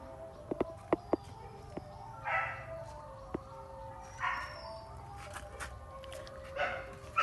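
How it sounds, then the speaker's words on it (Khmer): Dogs at an animal shelter bark in a few scattered, fairly distant bursts over a low background murmur, with short gaps of quiet between them. "ឆ្កែព្រុសច្រើនអញ្ចឹង"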